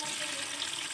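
Paneer pieces hiss and sizzle in hot oil in a wok, a dense, steady frying crackle held close for about a second with no talking.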